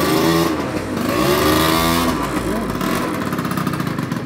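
An old motorcycle engine runs close by and is revved, its loud exhaust note rising and falling in quick bursts, with a voice faintly underneath.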